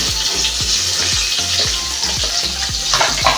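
Chopped onion frying in hot oil with curry leaves and garlic for a spicy prawn rice, a steady loud sizzle with a regular rhythm of stirring scrapes running through it, close up and with no talk.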